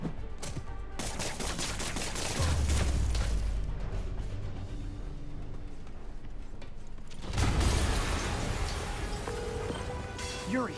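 Heavy rumbling booms land twice amid a dense clatter of mechanical noise and rapid gunfire in Marvel's Spider-Man, loud and continuous.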